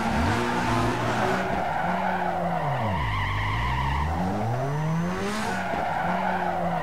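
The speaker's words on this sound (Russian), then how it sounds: "жги покрышки, набирай очки" Tires squealing through a long, continuous drift in the racing game Need for Speed Underground 2, with the skid whine rising and falling under a droning car engine.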